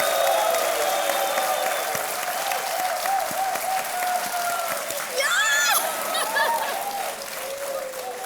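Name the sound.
studio audience applauding a game show contestant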